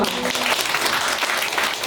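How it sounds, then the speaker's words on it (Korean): A congregation applauding at a Christmas church service, a thick, continuous burst of clapping from many people that stays even and fairly loud for the short stretch, with a faint voice under it at the start. "네, 박수."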